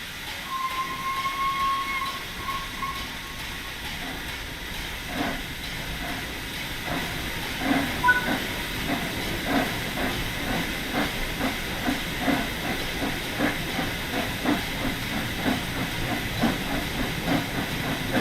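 An LNER A3 'Flying Scotsman' steam locomotive in Train Sim World 4 hisses steadily as the regulator opens, then soft rhythmic chuffs build up and quicken over a constant steam rush.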